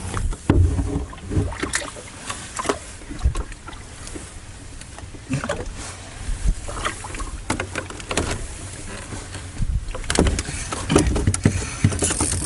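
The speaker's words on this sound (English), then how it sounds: "We've been paddling around as well" Canoe paddling on calm water near an island: close, irregular splashes and drips as the paddle dips and pulls, with knocks and creaks against the hull and a steady wash of water, no voices.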